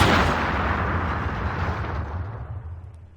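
A single tank main gun shot from Aces High 3, an overwhelming broadband boom that rolls off into a long fading rumble, close and loud with no talk.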